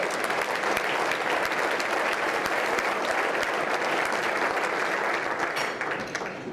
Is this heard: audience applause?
yes